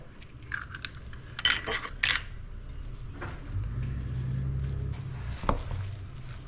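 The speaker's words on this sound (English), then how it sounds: "Now we're going to drop a few eggs in there." A few eggs, about three, drop one after another into a baking dish during turkey preparation in a home kitchen, giving sharp, quiet clinks and taps at irregular intervals over a low steady room hum.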